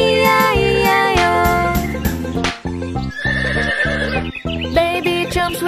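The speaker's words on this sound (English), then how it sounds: "With a neigh neigh here and a neigh neigh there" Loud horse neighs and whinnies ring out over bright, upbeat cartoon nursery-rhyme music about a farm, repeating several times with clip-clop hoofbeats in the mix.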